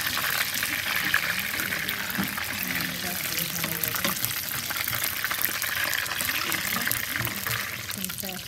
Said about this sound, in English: You want to hear the sizzle, and that's how you know your oil is hot enough.